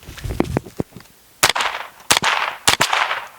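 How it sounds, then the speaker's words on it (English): A firearm has a round chambered during a groundhog hunt: a series of sharp, close metallic clacks, three or four of them, each with a short ringing tail over a quiet outdoor background. "I'm going to chamber one just so I can be ready"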